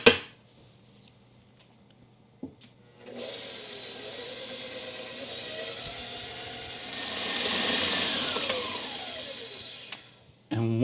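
An electric mixer whirs steadily through cake batter as milk and gluten-free flour are blended in a kitchen, a continuous close hum and hiss that swells slightly toward the end, preceded by a few clinks and brief quiet.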